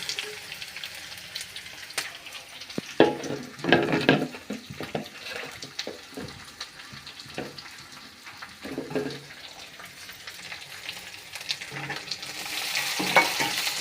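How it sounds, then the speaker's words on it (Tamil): Onions sautéing in a pan for a carrot stir-fry, a soft continuous sizzle broken by scraping stirs and clinks of the utensil, close and moderately quiet, no speech. "வெங்காயத்தை நல்லா வதக்கிக்கலாம்."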